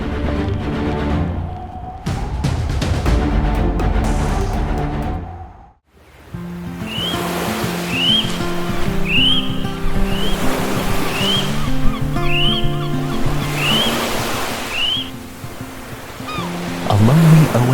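Ocean waves surge and wash around an isolated island far out at sea, a steady broad roar of surf beneath swelling music, with no talking.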